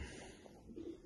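Soft, low cooing from a racing pigeon hen, faint and brief, with a murmuring coo toward the end over quiet ambient noise in a loft setting.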